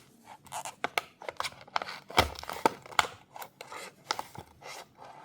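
Scissors or a blade snip and scrape through a cardboard box around a boxed 2016 Nissan GTR R35 Gold Edition model car, in a series of close, irregular cuts, crinkles and rasps.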